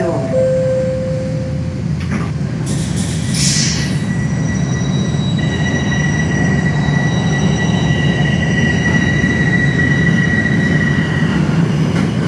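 A Toronto subway train runs on Line 2 toward Kipling, with a loud, steady rumble of wheels on track throughout, thin high wheel squeals and whines rising over it, and an announcement voice heard partway through.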